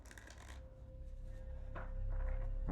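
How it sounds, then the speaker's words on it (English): Tarot cards being shuffled, close crisp riffling bursts at the start and again near the end, with quieter handling between and no talk. "Get several shuffles."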